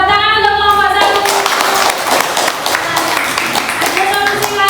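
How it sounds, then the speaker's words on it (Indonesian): A group of Indonesian students or teachers in a classroom claps together for a presenting group, a dense near patter of hands that starts with a steady tone underneath and continues through to the end. "Tepuk tangan untuk kelompok 1."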